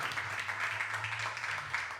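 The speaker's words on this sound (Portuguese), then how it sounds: "Aplauda ao Senhor em nome de Jesus" A church congregation applauds during a service, a steady wash of many hands clapping across the whole stretch, with a low hum beneath.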